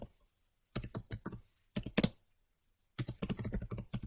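Quick bursts of keyboard typing, close and crisp, come in three short runs separated by brief pauses.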